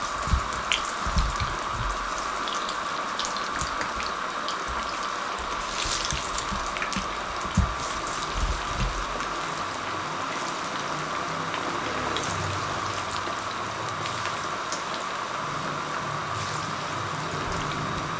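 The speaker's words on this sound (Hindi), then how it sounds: "मीडियम फ्लेम पे हम पकोड़े को फ्राई करने लगे हैं" Chicken pakoras frying in hot oil over a medium flame, giving a steady, loud sizzle with a fine, continuous crackle and no voices over it.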